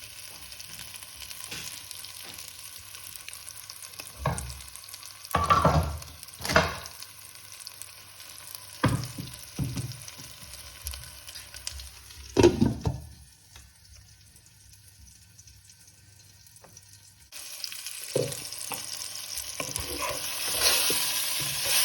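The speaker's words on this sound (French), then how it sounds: "je vais laisser les boulettes sur le feu à peu près 3 minutes, en retournant bien sûr de temps en temps" Minced-meat meatballs cook in a covered pan on the stove for a rice and tomato dish, giving a low steady sizzle broken by a few louder stirring and lid clatters, with a brighter hiss rising near the end.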